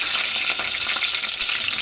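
Onions and mushrooms fry in hot oil in a pan for a mushroom curry, giving a dense, steady sizzle up close with faint stirring scrapes.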